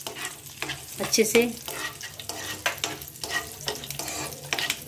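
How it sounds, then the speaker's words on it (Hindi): Whole cumin seeds fry in ghee for jeera aloo, giving a soft, continuous sizzle broken by the scrape and clatter of a spoon stirring the pan, with a brief spoken phrase partway through. "1/2 चम्मच बिना पिसा हुआ जीरे का भी प्रयोग करेंगे। घी के साथ हमें इसे अच्छे से भूनना है।"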